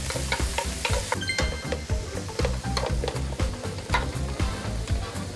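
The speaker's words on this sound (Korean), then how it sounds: "양파하고 파 다진 걸 넣고 살짝 볶아서 향을 빼내줍니다" Chopped onion and scallion stir-frying in sunflower oil, a steady close sizzle broken by repeated scraping strokes of a utensil against the pan, with no voices.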